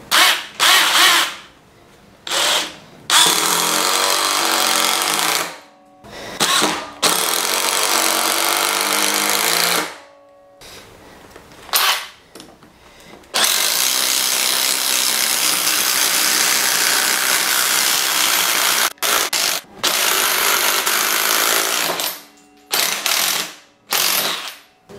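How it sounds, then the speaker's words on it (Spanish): Power tool bursts repeat on and off, a Black+Decker Matrix impact driver's rattling hammering in short blasts and one long sustained run, loud and close with no talking. "Vamos a ver el atornillador de impacto."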